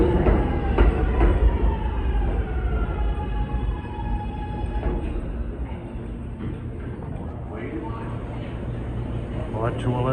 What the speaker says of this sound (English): Here comes a downtown C train, which heads to Euclid Avenue